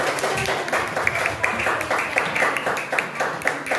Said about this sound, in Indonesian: Tepuk tangan untuk teman kita yang